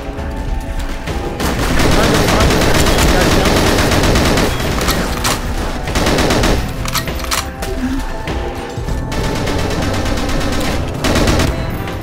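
Dense, loud bursts of automatic gunfire and scattered single shots fill a team deathmatch on the Bunker map in the Goldeneye Source game, with rapid overlapping volleys and brief gaps throughout.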